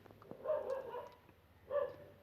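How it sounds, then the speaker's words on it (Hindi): Dogs barking outdoors, a few muffled barks at a distance, faint and partly lost in low background noise. "बाहर डॉगी भौंक रहे हैं"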